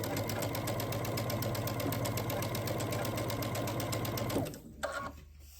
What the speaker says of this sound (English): Now we can chain piece.